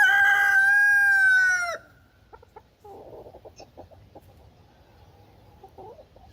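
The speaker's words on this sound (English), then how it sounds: "This is our laughing rooster Simca again." A loud, close rooster crow with a long drawn-out call, followed by softer clucking and chattering bird noises.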